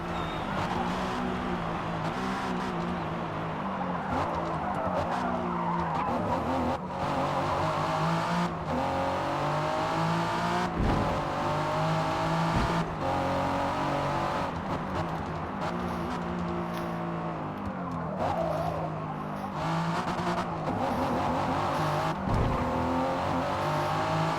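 Race car engine in Forza Motorsport 6 on a final lap, revving loudly and continuously with shifting pitch as gears change, occasional tire squeal and passing cars mixed in, dense and close throughout.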